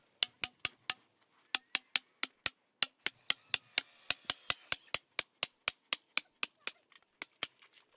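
An intermediate post for a garden row-cover hoop is driven into the ground with a hammer. The sharp, close, metallic blows come in a fast, steady run of about thirty strikes with brief pauses.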